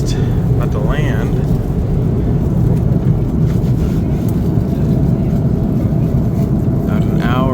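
Steady low roar of an airliner cabin on a flight from Rome shortly before landing, a constant engine and air drone with a few faint voices and brief clicks.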